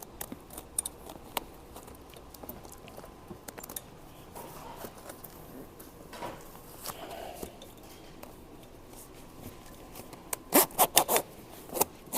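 Close zipper pulls in short scraping runs on a Rans aircraft seat cover, sporadic at first, then a quick cluster of loud zips near the end, with soft fabric rustling between.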